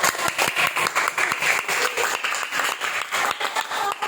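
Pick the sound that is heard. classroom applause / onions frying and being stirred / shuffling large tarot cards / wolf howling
classroom applause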